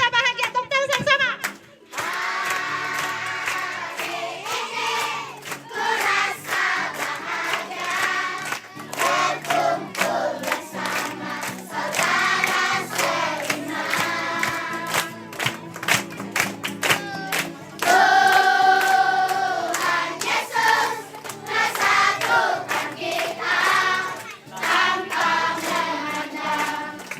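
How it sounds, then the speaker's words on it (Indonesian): Children clapping together during a group singing activity at a disaster evacuation shelter, rhythmic hand claps mixed with loud sung and shouted voices, close and energetic, with brief pauses between phrases. "Tepuk tangan sama-sama."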